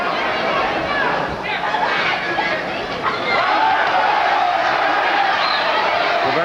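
Boxing arena crowd at the Victor Galindez versus Jesse Burnette fight, a continuous roar of chatter and cheering that swells in places, with a commentator talking over it.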